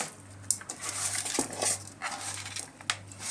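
Fish pieces mixed with salt, chili powder and oil in a pot for Andhra fish curry, with a few sharp clinks and soft wet scraping over a low steady hum, close and moderate, and no talking.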